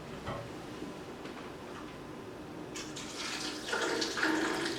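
Water runs steadily from a tap, a soft continuous hiss that grows louder and brighter toward the end as the flow strengthens.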